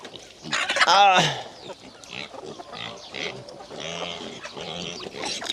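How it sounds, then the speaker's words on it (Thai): Chickens clucking at a morning feeding on a Thai farm with pigs nearby, a loud burst of squawking early on, then busy clucking and farmyard noise while people talk. "นี่ก็เป็นบรรยากาศเลี้ยงไก่อยู่ทงอยู่ทานนะพี่น้องเนาะ ให้อาหารยามเช้านะพี่น้องเนาะ"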